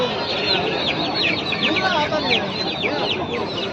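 Country hens of the Salem breed cluck and squawk in a busy Sunday poultry market, many birds calling at once, close and loud, while people talk in the background.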